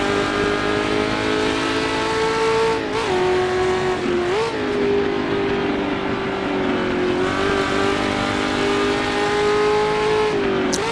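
A Shelby Cobra race car at the 1966 Sebring 12 Hours roars past loud and close, its engine note holding steady, then dipping and rising through gear changes, with no voices over it.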